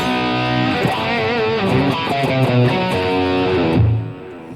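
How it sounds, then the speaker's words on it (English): Heavily distorted electric guitar through a Boss distortion pedal plays a riff of chords and notes, loud and saturated, ending on a sustained low note. "So like a distortion."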